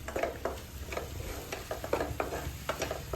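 Bitter gourd masala with amchur, cumin and turmeric is stirred and roasted in a pan over high heat, giving repeated scraping strokes of a spoon in a steady rhythm over a soft, continuous sizzle.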